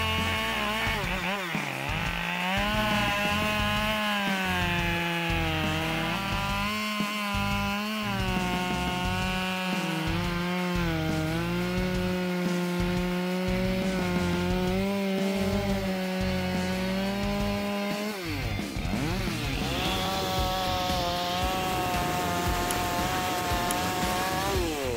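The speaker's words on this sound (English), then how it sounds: "Embark on a wood carving adventure with the Husqvarna 572XP. This chainsaw has impressive cutting power, handling dry wood with ease and exceptional speed." A Husqvarna 572XP chainsaw cuts through dry wood with a loud, continuous high-revving drone. The pitch sags and climbs as the chain bites and frees, then briefly drops near the end before revving back up, with no voices.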